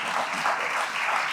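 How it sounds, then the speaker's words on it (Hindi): Brief, steady clapping from a congregation applauding children after worship, a short burst of dense, even applause with no pause. "ताली बजाते सब बच्चों के लिए।"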